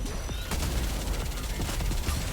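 Rapid bursts of gunfire from the video game Nikke: Goddess of Victory, several sharp shots in quick succession over a dense, busy background of game effects.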